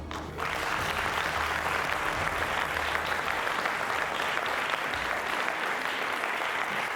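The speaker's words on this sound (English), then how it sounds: "It's not just the audience members that are clapping, but the judges themselves" Audience members and judges at a leadership competition event clap together in sustained, dense applause that starts abruptly and continues evenly throughout.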